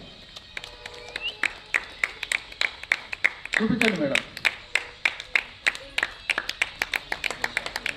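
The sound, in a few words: audience clapping at a felicitation ceremony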